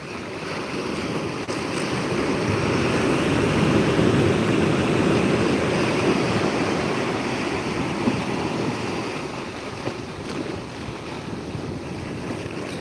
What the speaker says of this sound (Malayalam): തിരമാല വരുന്നുണ്ട് ഒന്നും കൂടി വരുന്നുണ്ട്